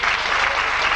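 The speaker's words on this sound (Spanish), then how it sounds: "El aplauso también para José." At a tango gathering, the crowd gives a short, steady burst of applause, a dense wash of many hands clapping together.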